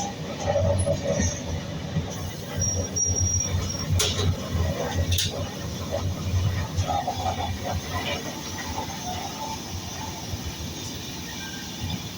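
A passenger train running on the NJP to Agartala route, heard from on board: continuous wheel rumble and rattle with occasional squeals and clanks, steady and close, with faint voices in the background.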